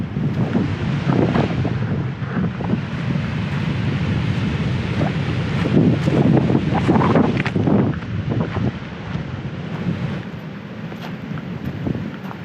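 Strong, gusty wind blows on the stormy ocean coast of Vancouver Island, a loud roaring rush with surging gusts that buffet the microphone, and ocean surf sounds beneath it.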